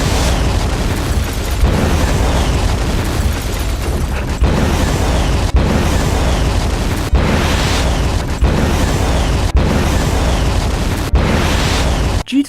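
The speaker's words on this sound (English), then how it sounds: "A good example of this is the explosion sound effect." A loud, distorted explosion effect from a low-budget action film, a sustained roaring blast with repeated surges and audible clipping that fills the whole stretch, no voices.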